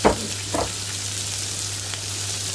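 Red peppers hit a hot pan with a sharp burst of sizzle, then settle into a steady, loud, close hiss of frying with a couple of soft stir knocks.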